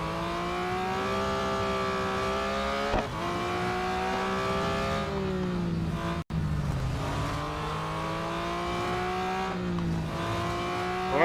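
A Porsche 911 GT3 (2021) race car engine in the Real Racing 3 video game, loud and sustained, revving up and down through repeated gear shifts with a brief cut midway.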